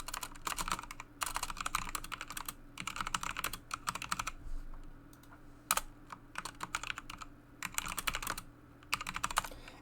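Computer keyboard typing in bursts of rapid keystrokes with short pauses, close and fairly quiet, while code comments are entered in the Godot game engine editor; no talking.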